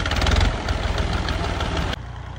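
A Massey Ferguson 385 tractor's diesel engine runs steadily and loud up close, with a heavy rumbling chug that drops slightly in intensity near the end.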